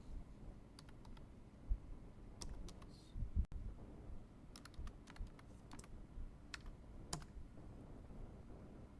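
A PAN number being typed on a computer keyboard during bank software data entry; quick, irregular key clicks run steadily through the whole stretch, fairly close and moderately loud, with no one speaking.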